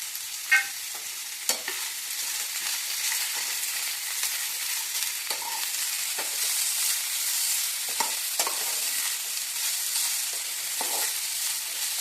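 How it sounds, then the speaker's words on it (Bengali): Vegetables fry in a pan with ingredients such as ginger paste while being stirred, giving a steady sizzle with intermittent scraping stirs at close range and no talking. "আমি হালকা একটু নেড়ে দিই।"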